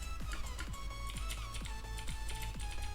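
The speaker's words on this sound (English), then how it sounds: "what an awesome sound, like a mechanical keyboard" Steady, fast typing on a computer keyboard with a mechanical-keyboard sound effect applied, giving crisp, evenly spaced clicky keystrokes at close range with no voices.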